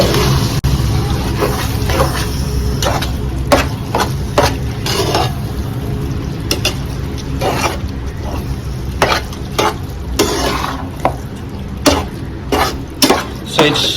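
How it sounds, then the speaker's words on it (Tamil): A spoon stirs chicken and capsicum into a thick masala gravy in a pan, giving steady scraping and stirring with repeated sharp clinks against the metal over a low continuous cooking sizzle. "அது மேலேயே கேப்சிகம் கொஞ்சம் ஆட் பண்ணி நல்லா மிக்ஸ் பண்ணி கொடுத்துடலாம்"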